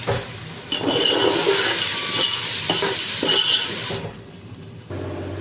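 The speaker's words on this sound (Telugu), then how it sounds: "బిర్యానీ ఆకు జాపత్రి కొంచెం బిర్యానీ పువ్వు తర్వాత వచ్చేసి కొంచెం సాజీరా ఇవన్నీ ఇప్పుడు మిక్స్ చేస్తున్నాం" Whole spices (bay leaf, mace, star anise and shahi jeera) sizzle and hiss in a hot pan for a gongura pulao, with scraping stirring strokes running steadily through the frying noise.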